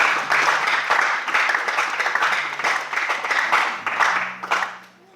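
A church congregation applauds steadily for several seconds, a dense wash of clapping that fades out at the end, with a few voices mixed in.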